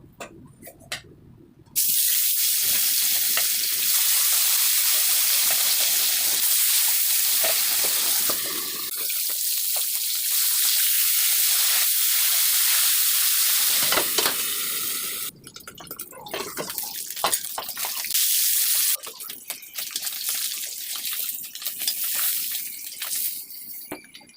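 Pieces of katla fish fry in hot oil for a village-style fish curry, a loud continuous hiss and sizzle with crackling bursts that dips midway, then turns choppier and more broken toward the end.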